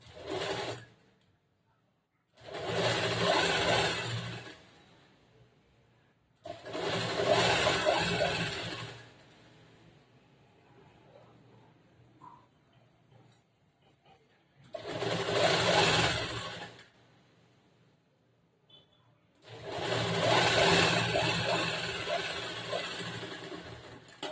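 A sewing machine runs in four long bursts of large stitches along a star-shaped neckline, loud and close, with a steady mechanical whir, short quiet gaps between runs and faint talk in the pauses.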